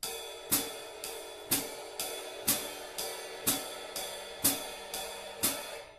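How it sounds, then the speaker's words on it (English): A ride cymbal rings steadily while a crisp closed hi-hat chick lands on every other beat, even and moderately loud, with no voices. "the next important voice is the hi-hat, which is on 2 and 4"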